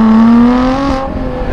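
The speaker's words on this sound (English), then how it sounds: "So I think one more first gear pull." A Lotus Exige 430 Cup pulls hard through first gear, its engine note rising steadily in a loud, close, sustained rev that eases off near the end with no talk over it.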